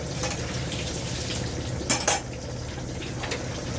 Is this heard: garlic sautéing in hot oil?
yes